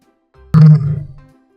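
A lion gives a single deep, loud roar that bursts in suddenly, swells for a moment and then trails off into a low, rumbling fade, with no other sound around it.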